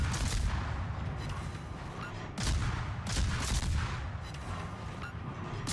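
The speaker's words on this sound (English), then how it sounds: "Oh, it's the fort shooting at me." Coastal fort guns firing on a ship in World of Warships, a series of heavy booming shots with rumbling tails, several blasts spaced a second or so apart over continuous battle noise.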